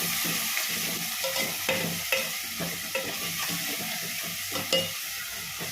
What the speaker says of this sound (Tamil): பொன்னிறமாக வரணும். அது நல்லா வதக்கிடலாம்.